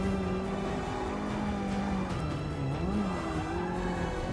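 Race car in the Forza Motorsport 6 video game braking and cornering, a steady loud engine drone with pitch sweeping up and down through the turn, a faint tire squeal layered over the continuous motor.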